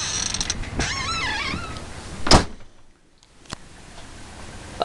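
A 2004 Itasca motorhome's entry door creaks open in one drawn-out, wavering squeal, followed by a sharp latch clack and a fainter knock, all fairly close with no talking.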